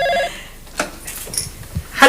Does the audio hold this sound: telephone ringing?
yes